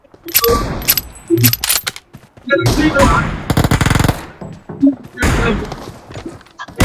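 Rapid automatic gunfire and thudding shots from a team-based shooter video game crackle in repeated loud bursts, with short gaps between volleys and a faint voice briefly underneath.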